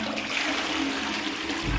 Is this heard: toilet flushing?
yes